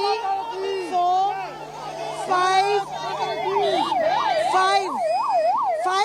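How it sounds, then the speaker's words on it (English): An ambulance siren wails loud and close, its rising and falling tone cycling steadily during a tunnel rescue, with people talking over it. "we saw 5 ambulances earlier"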